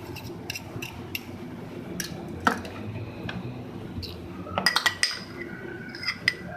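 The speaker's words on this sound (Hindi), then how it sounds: "अब इन तमाम चीज़ों को मिक्स करेंगे स्पून की मदद से।" A spoon stirs a creamy mayonnaise sandwich filling in a bowl, giving soft squishy wet sounds and occasional light metallic clinks against the dish, fairly close and quiet, with a cluster of sharper taps near the end.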